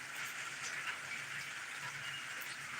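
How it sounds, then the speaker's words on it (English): Light early-morning rain falls in Roanoke, Alabama, a steady, even hiss of drops that holds at the same level throughout, with no voices. "this is a light rain"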